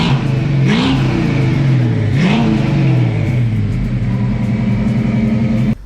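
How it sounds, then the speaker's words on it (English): Supercharged small-block Ford V8 in a freshly painted 1964 Fairlane revs loudly and close, two quick throttle blips rising and falling over a steady, lumpy idle that holds until it cuts off at the end. "He's got a killer Fairlane, freshly painted, beautifully done. Supercharged, small block Ford."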